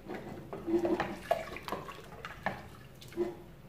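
Tap water runs in a home kitchen while rice cooks in a pressure cooker for a northeastern Brazilian lunch, a steady close splash broken by a few light clinks of pots and dishes.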